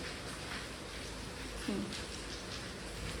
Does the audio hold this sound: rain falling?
yes